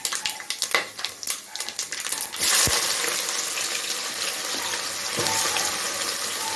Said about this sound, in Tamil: இந்த பட்டை கிராம்பு கடுகு பிரியாணி இலை எல்லாத்தையும் போட்டு கடுகு பொரிஞ்சதுக்கப்புறம் வெங்காயம் போட்டுக்கலாம்